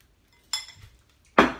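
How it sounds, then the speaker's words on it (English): A spoon knocks against dishes in two quick, close clinks separated by a short pause, the second one sharper and louder, with no talking. "See if I can grab a spoon so you guys can see."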